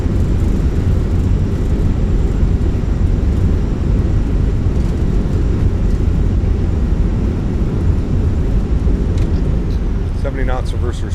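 Airbus A319 thrust reversers deployed on landing in Microsoft Flight Simulator, a loud continuous low engine roar filling the whole stretch, with a brief faint tonal chirp near the end.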